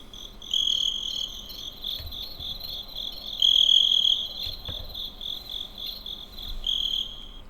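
Crickets chirp steadily in a quiet graveyard at night, a continuous high trilling with brief louder bursts, close and clear over a faint low background, with no voices.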